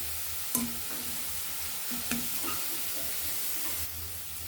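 Shredded potatoes fry in hot oil with a steady broadband sizzle and hiss, broken by a few brief stirring clinks and scrapes, heard up close with no talking.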